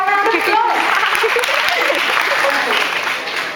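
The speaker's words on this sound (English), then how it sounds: "Can we have a round of applause?" Applause from the audience at an inter-school quiz competition, loud and continuous clapping filling the room, with a voice speaking briefly at the start.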